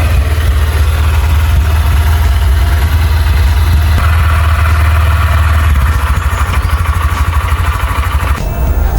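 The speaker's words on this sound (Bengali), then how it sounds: "আর ইঞ্জিনের একটা সাউন্ড আসছে দেখো কীরকম এখন এই সাউন্ডটা আসছে" Motorcycle engine idling during a cold start, a loud, steady low rumble close by that runs throughout without pause, its pitch shifting slightly partway through.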